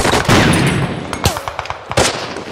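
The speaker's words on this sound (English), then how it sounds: "Oh, someone got shot." Gunfire from a Band of Brothers war episode playing on a screen, a dense, loud burst of shots and blasts with rapid cracks throughout, under a busy, noisy mix.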